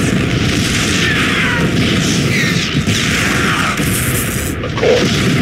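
Siege tanks in StarCraft 2 pound Protoss cannons from long range, a dense, continuous rumble of booming blasts with one sharper burst near the end.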